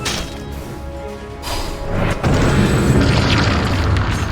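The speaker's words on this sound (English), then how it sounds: "Oh, explosion!" An explosion in a Dota 2 match swells into a loud, sustained booming rumble that lasts to the end, with no voices over it.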